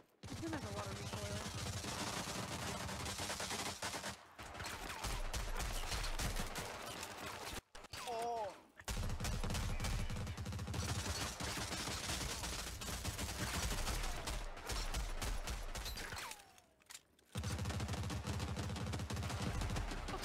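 Rapid automatic gunfire from the video game Rogue Company on Nintendo Switch, sustained loud bursts filling nearly the whole stretch with a few brief pauses, and talk mixed in.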